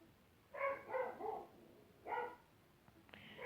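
Dog barking in the Farming Simulator 18 video game: a quick run of three close, clear barks, then a single bark a moment later, over a faint steady background.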